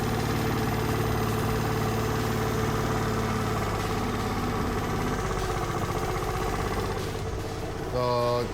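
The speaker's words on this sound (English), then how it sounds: "Alright guys, so I got it running. I got it idling." A Vespa scooter engine idles steadily and loudly up close with an air-leaking automatic choke, its putter holding even for several seconds before shifting briefly near the end.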